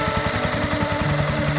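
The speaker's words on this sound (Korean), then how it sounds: "관광객을 태운 보트가 건너가고 있네요" A tourist boat's motor chugs across the river near the Inwa ruins in Mandalay, Myanmar, a steady mid-pitched engine throb with a rapid pulsing rhythm and tonal drone, fairly close and alone.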